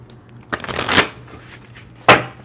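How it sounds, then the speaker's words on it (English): Tarot cards shuffled by hand during a live reading, two quick riffling bursts close to the microphone, with no talk over them. "Still shuffle."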